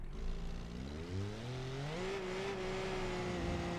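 A car in BeamNG Drive, on a steep descent in a downhill race, accelerates, its engine note climbing steadily and smoothly through the revs and then holding a high sustained drone.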